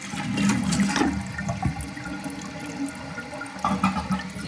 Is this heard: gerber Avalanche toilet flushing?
yes